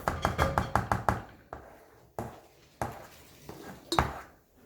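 Metal spoon scraping and knocking against a pan of sweet and sour chicken rice, a quick run of clattering strokes followed by a few slower, separate scrapes, close and fairly loud.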